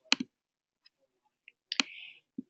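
Several sharp, isolated mouse clicks, close and quiet, spaced irregularly with near silence between them.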